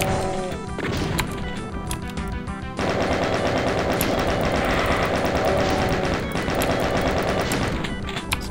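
Rapid machine-gun fire in the 1995 Doom WAD Buzzard's Delight, Level 1, a loud, continuous stream of shots with a brief pause before it resumes and keeps hammering to the end.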